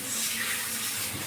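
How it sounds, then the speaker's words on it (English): Running water pours steadily during a proper rinse of long hair at a shampoo service, a continuous close splashing hiss with no talking. "Just doing a proper rinse."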